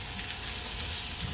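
Chopped vegetables for spring rolls fry in a hot pan with garlic, giving a steady, close, even sizzle throughout with no talking.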